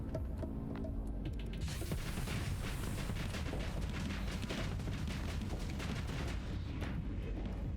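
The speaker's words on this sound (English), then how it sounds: "let our antimatter blaster come online, and then hope that we don't accidentally shoot one of the talons" A dense, continuous rumble of rapid energy-weapon blasts rolls on from an antimatter blaster in the space combat game Starsector, loud and unbroken throughout, with no talk.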